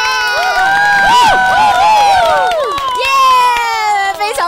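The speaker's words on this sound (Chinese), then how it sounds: "给力的欢呼声" Several voices shout and cheer loudly with rising, whooping pitches to greet the host at the start of the official Langrisser Mobile live-stream show. The cheering is close, energetic and continues for about four seconds.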